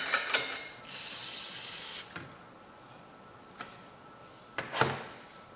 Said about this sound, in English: We'll spray some carb clean inside.